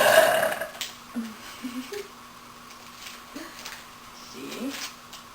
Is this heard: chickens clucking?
no